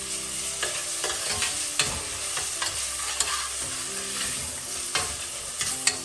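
Ginger garlic paste sautés in a pan for restaurant-style mutton chops, a steady close sizzle with repeated scraping stirs and a few sharp clicks of the spoon against the pan, no voices.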